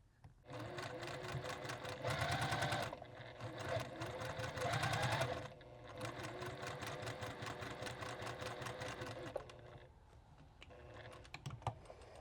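Sewing machine running steadily as it stitches a quarter-inch seam on a star quilt block, a continuous loud mechanical whir with a couple of brief stops and restarts, no talking.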